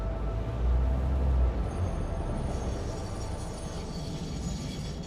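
A train in the video game Satisfactory rolls along with a continuous low rumble and rail hiss. The rumble swells briefly near the start, then holds steady.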